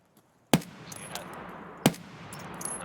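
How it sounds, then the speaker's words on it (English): Two sharp sniper rifle gunshots in the video game Escape From Tarkov, the first near the half-second mark and the second over a second later, each a loud crack trailed by a rumbling echo. "About to shoot a sniper scout."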